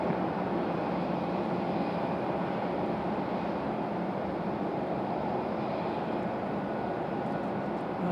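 Copa airliner arriving from Panama City on approach to Raleigh-Durham airport, a steady distant broadband engine roar holding constant and fairly faint throughout, with no voices.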